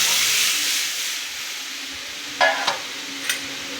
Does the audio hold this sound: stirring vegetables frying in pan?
yes